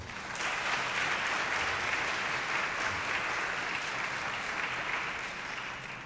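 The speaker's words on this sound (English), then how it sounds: "So please give yourself a round of applause." Sustained, dense applause from an audience at an educators of color celebration, steady and loud for about six seconds with no talking over it.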